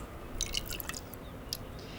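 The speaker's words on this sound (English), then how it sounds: "And just about a tablespoon of olive oil." Olive oil is poured into a flour, water and yeast mix for Italian pizza dough, giving a quick run of soft, close drips with no talk.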